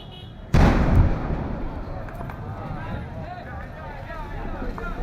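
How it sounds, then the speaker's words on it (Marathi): A gas cylinder explodes after a truck fire in Dharavi, Mumbai, with one loud, sudden boom followed by a long rumbling roar of flames and crowd noise, with voices audible beneath. "या ठिकाणी आग लागली आणि आगीनंतर या सिलेंडरचा स्फोट झालेला आहे."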